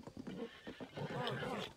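A horse in Zelda: Tears of the Kingdom neighing, a short whinny followed by a longer rising and falling neigh with hoof clops in between, close and clear.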